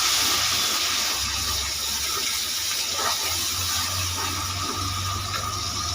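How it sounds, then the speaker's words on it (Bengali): Water poured into ground spices (cumin, Kashmiri chilli) in a hot pan while cooking a curry: a steady, close rush of liquid and hiss lasting several seconds, with no talking. "অল্প করে একটু পানি দিয়ে দিলাম"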